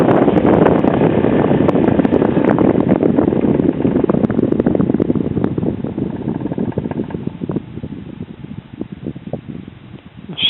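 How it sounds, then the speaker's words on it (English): An old Sears Kenmore electric fan from the late 1940s to early 1950s runs with a steady, loud airy whoosh and faint rattling, easing slightly toward the end. "Moves a lot of air for such a small little fan."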